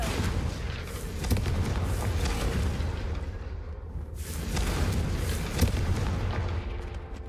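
A Confringo fire spell in Hogwarts Legacy explodes in a dense, continuous roar of booming blasts, with several sharper bursts rising out of the steady rumble.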